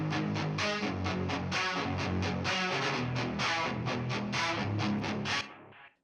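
A heavily processed guitar with every effect engaged plays a busy, continuous pattern of quick picked notes, loud and full throughout, ending with a short decaying tail.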